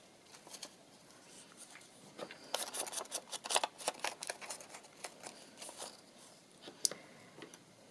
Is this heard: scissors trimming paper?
yes